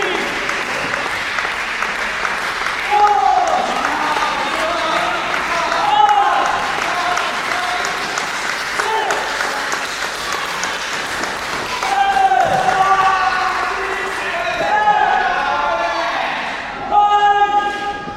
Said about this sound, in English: And the crowd is surely getting behind Papi right now.